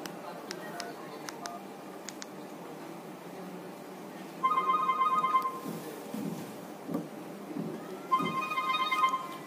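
A Grandstream Wi-Fi VoIP desk phone rings with an incoming call, two bursts of electronic ring tone sounding several seconds apart amid small clicks and handling noise, fairly close.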